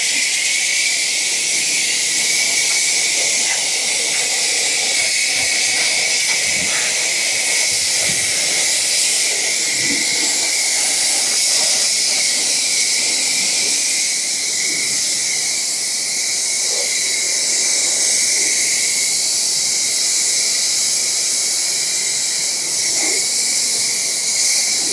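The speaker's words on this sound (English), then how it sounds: "we're going to go ahead and just spray it off with our pressure washer" A pressure washer sprays and rinses a car wheel after cleaning with CARPRO WheelX, producing a loud, steady, unbroken hiss of water spray that holds without pause from start to finish.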